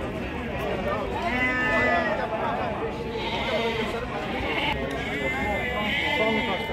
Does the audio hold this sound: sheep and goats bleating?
yes